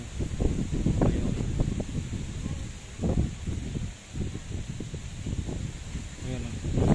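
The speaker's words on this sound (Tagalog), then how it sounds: "Lakas ng hangin dito ah." Strong wind buffets the microphone in rough, uneven gusts at Sumlang Lake, a loud low rumble that dips briefly before surging again.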